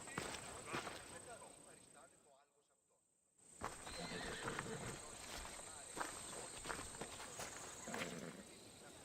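Hooves clop along and a horse whinnies amid Assassin's Creed Odyssey game ambience, with voices talking over it and a brief quiet gap near the start.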